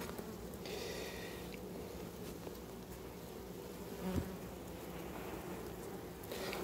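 Dense, steady buzzing of many honeybees around an open beehive, close and continuous, with a few louder individual passes near the microphone.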